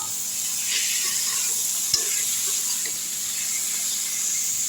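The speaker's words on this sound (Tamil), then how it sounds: "சிக்கனை நல்லா வதக்கி விட்ருவோம்" Chicken is stirred and sautéed in a hot pan for a Chettinad-style chicken thokku with horse gram greens. It gives a steady close sizzle, with one brief clank of the stirring utensil partway through and no talk.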